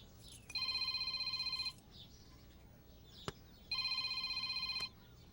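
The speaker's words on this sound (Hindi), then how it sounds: "फोन उठाओ, स्पीकर पे करो" A telephone rings indoors in two long electronic trill bursts separated by a pause, clear and moderately loud over quiet room noise, with a sharp click between them.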